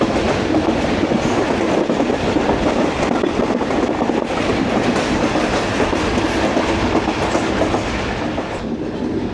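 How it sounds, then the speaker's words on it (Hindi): A passenger train runs onto the loop line at Momin railway station, with a loud, steady roar of wheels and rail noise and faint clickety-clack, heard close from on board. "9:41 और एज़ एक्सपेक्टेड मोमिन रेलवे स्टेशन की लूप लाइन पर ले लिया है हमें"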